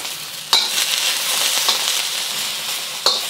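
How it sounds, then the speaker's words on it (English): Sliced onions without the dark green parts hit hot oil in a wok over medium heat, giving a steady broadband sizzle with a few sharper crackles and stirring scrapes, close and alone. "adding another tablespoon of oil. I'm gonna add my onions."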